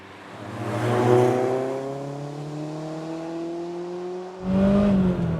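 A 32-year-old Japanese-import BMW E30 M3 engine revs up in a rising, smooth howl that swells, eases and then surges again near the end, loud and close with no talking.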